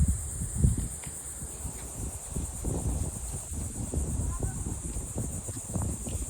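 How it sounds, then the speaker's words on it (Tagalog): A steady high insect drone, like cicadas, hums continuously in an outdoor natural setting, with rustling and light handling noise underneath throughout. "Kuliglig. Kuliglig. Kuliglig."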